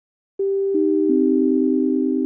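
A pure synthesizer sine wave sounds loud and steady, starting as a short tone that steps down in pitch twice before holding as a sustained, clean drone.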